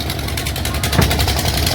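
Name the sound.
boat engine starting on the river at Kashi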